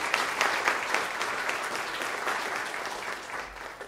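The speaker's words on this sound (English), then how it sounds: "So let's give a round of applause for all of our sponsors." Audience applause for the sponsors at an MIT Enterprise Forum San Diego evening event, a dense, steady wash of many hands clapping that carries on evenly for a few seconds with no voices.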